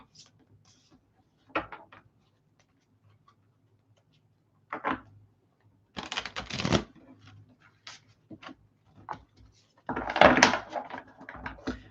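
Tarot cards are shuffled up close in several separate bursts, soft riffles and slaps with quiet gaps between them.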